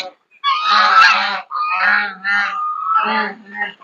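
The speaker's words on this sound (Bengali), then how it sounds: "এখানে হাসা আছে যারা নাকি দুষ্টামি করতেছে" Loud, harsh duck calls close by on a cattle farm, three honking bursts in quick succession with brief pauses between them.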